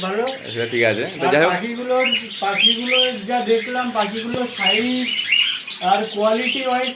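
A lovebird gives repeated shrill squawks and chirps, close and fairly loud, mixed with people talking nearby.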